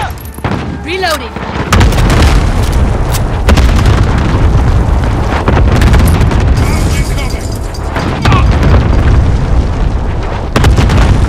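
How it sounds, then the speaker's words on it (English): Cluster strike explosions in Call of Duty Modern Warfare multiplayer on the Shoot House map: a dense, loud barrage of overlapping booms and gunfire that rumbles almost without pause. Brief voice callouts come through the din. "Allied cluster strike inbound."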